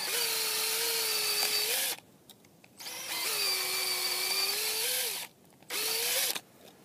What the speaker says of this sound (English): so I'm going to drill this one.